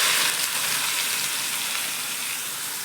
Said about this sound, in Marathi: आता व्यवस्थित आपल्याला कांदा परतून घ्यायचा आहे अगोदर